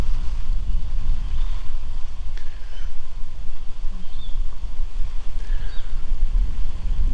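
Gusty wind buffets the microphone beside the Brisbane River during the floods after Ex Cyclone Alfred, a loud, continuous low rumble with faint distant tones above it.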